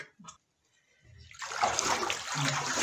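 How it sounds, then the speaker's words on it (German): Stormy water splashing and churning in a strong storm on a lake, starting quiet with a couple of faint drips, then swelling into a loud, continuous wash of waves and spray. "Jesus, wach auf, der Sturm ist so stark."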